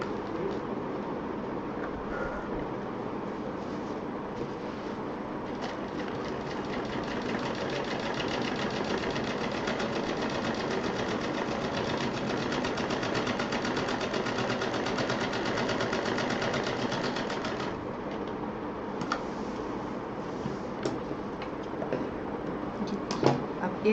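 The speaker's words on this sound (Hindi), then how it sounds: "अब ये वाला जो हिस्सा बचा है इसको भी हम सिल देंगे।" A sewing machine stitching the seams of a fabric pouch runs in a continuous fast mechanical whir for most of the stretch, then stops and leaves scattered clicks and handling noises.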